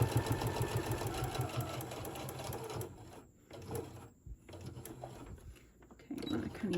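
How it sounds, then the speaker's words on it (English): A sewing machine runs a straight stitch around the edge of a fabric hot pad, a quick mechanical whirring chatter for the first few seconds, then pausing and restarting in short bursts, with some quiet speech. "I'm just going to sew all the way around using the side of my fabric and the side of my presser foot as a guide"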